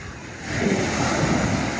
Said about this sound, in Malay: kalau ikutkan ni ombak okey lah tak adalah terlampau kuat sangat